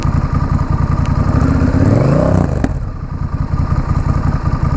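Honda Rebel 1100 motorcycle running with its muffler removed: a loud, close, rough exhaust throb that revs up sharply, then drops back to a choppy, pulsing idle, with no voices.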